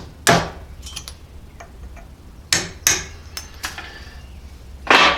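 Sharp metallic hammer strikes knock old rivets out of Gravely sickle bar cutter sections, a handful of separate close impacts spaced irregularly with ringing decay and a quieter tap or two between.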